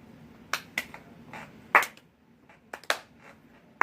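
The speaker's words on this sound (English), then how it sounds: "Slow clap." A few sparse, sharp hand sounds land at uneven intervals, a slow clap or snaps, fairly quiet and close against a near-silent indoor background.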